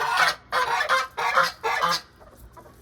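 Geese honk loudly and close by in four rapid bursts of raucous calls, with brief pauses between them as the birds gather at feeding time.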